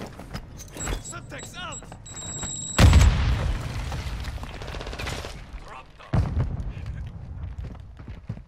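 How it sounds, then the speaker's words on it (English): Warzone game explosions and gunfire from precision airstrikes: a loud heavy blast with rumbling bursts and rapid crackling shots, then a second sharp boom, over scattered game sounds and a nearby voice talking. "This guy had two precision airstrikes on him."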